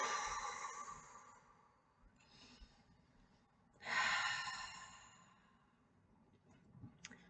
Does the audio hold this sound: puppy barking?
no